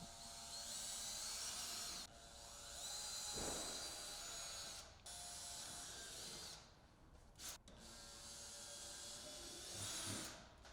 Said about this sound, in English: Then, drill a pilot hole at the center of each hole.